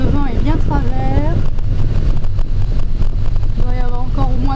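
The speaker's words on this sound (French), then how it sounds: "le vent est bien travers" Strong crosswind of around 30 km/h buffets the microphone while sailing, a constant loud rush with gusty swells. Someone talks over it at times.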